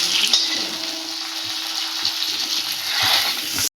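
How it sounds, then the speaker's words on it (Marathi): Eggs fry in hot oil for an egg masala, a steady close sizzle and crackle with faint stirring and turning sounds throughout and no talking. "असं पलटी मारून दोन्हीकडून फ्राय करून घ्यायचं।"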